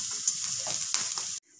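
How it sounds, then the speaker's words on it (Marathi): A piece of coconut roasts directly over a stove flame, giving a close, steady crackling sizzle with small pops, which cuts off abruptly at the end. "खोबऱ्याचा तुकडा देखील आपण फ्लेमवर भाजून घेऊया"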